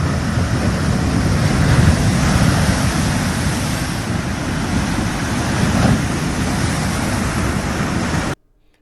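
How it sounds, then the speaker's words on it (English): Heavy rushing water from a tsunami wave after the Hunga undersea volcanic eruption in Tonga surges loudly and continuously, a dense roar of churning waves with wind noise, cutting off abruptly near the end. "Here comes the second wave."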